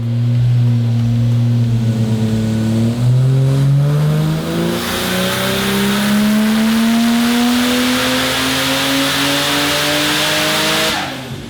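A Barra-powered Holden on a hub dyno at C&A Auto Fashion in Blackburn revs loud and close in one long sustained pull, its engine note climbing steadily for about eleven seconds before cutting off abruptly.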